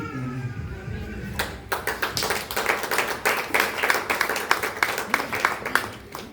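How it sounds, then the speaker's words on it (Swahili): A church audience clapping after a book review, brief voices first, then dense, steady applause building and continuing close and loud. "Haya makofi hayatoshi. Hebu ongeza mengine tena."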